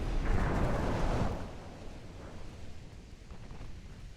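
Naval guns open fire on a heavy cruiser during a 1910 British campaign battle in Ultimate Admiral Dreadnoughts, a loud booming blast that rolls into a long, fading rumble.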